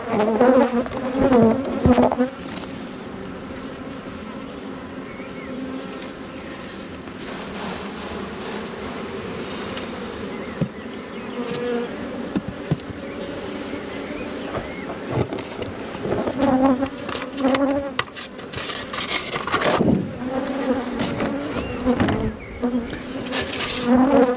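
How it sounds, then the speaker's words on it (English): A dense, continuous buzz of many bees fills the air up close around an open hive as frames of bees are shaken in, with occasional knocks and scrapes of equipment underneath. "I'm going to shake another frame of bees in on there."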